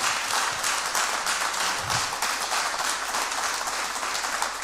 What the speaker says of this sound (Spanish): Vamos, denle un aplauso a Jesús.